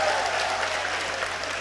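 Crowd applause, a dense steady clapping that fills the short moment evenly at a moderate level, with no voices over it.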